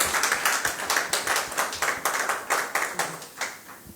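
An audience at an RHDP political rally claps steadily and rhythmically for about four seconds, a dense, close burst of applause with no talk over it.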